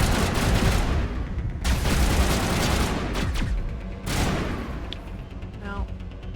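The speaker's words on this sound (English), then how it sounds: "I hear a bomb" Explosions and gunfire in the video game Mass Effect, heard as a dense, continuous clatter of shots with sharp bursts and booming hits, with voices talking underneath.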